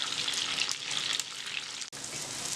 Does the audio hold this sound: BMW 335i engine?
no